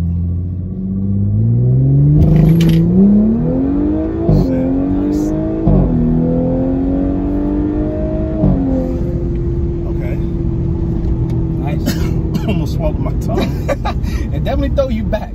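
An Audi RS7, C7.5 generation, launching hard from a brake-held start in sport mode, a rising engine drone climbing through two gear shifts, heard from inside the cabin with people talking over it.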